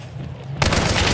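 A sudden loud burst of rapid gunfire in Hunt: Showdown erupts after a quiet moment and continues as a dense, harsh rattle.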